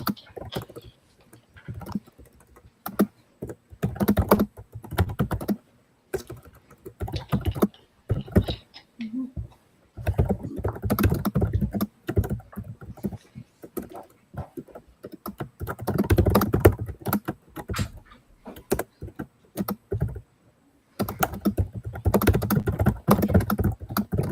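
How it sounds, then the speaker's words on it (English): Typing on a computer keyboard in a live class: rapid, close keystroke patter arrives in bursts separated by short pauses across the whole stretch. "I'm going to type it for you."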